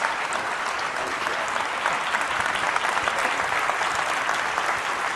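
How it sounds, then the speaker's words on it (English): Audience applause at a provincial state of the province address, dense steady clapping from a large crowd throughout, close and sustained. "Please join me in a round of applause."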